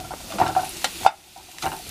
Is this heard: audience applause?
no